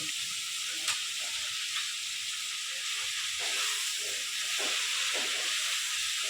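Mushrooms and softened onions fry in a pan for a mushroom curry, giving a continuous bright steamy hiss with soft, irregular stirring scrapes beneath it.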